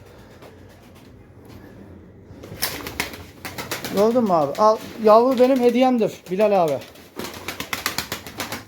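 Pigeons coo close by in repeated rising-and-falling calls, overlapping with someone talking throughout, with a faint wing-flap rustle among the calls.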